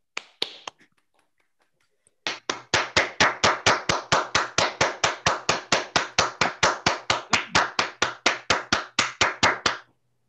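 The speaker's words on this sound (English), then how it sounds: "Let's have a round of applause." Applause at the closing session of an academic conference: a short scatter of claps, a brief pause, then a long run of loud, evenly timed rhythmic clapping with no talk.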